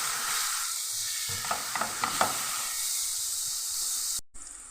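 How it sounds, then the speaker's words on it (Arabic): Minced garlic sizzles in hot butter in a pan, a steady close hiss with a few soft scrapes of stirring, then a brief cut before the frying resumes. "ولما سخنوا هحط عليهم الثوم المفروم واشوحه تطلع ريحته بس"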